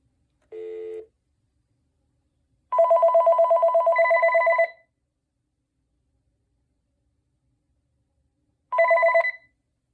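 A Panasonic KX-TG2583S 2.4GHz DSS cordless phone gives a short electronic tone, then a long warbling ring of about two seconds, and after a pause another ring burst begins; clear, moderately loud, no talking.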